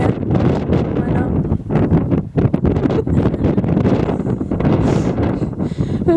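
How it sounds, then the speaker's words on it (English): Strong gusts on an exposed rocky hilltop buffet the microphone with a loud, steady roaring rumble, broken by brief dips, with voices talking faintly underneath. "It's super windy up here."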